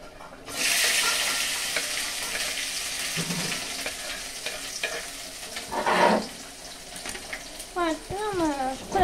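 Chopped capsicum fries in a pan for pasta, a faint steady sizzle under occasional stirring scrapes and clinks, with a brief burst of louder noise midway and some quiet voice toward the end.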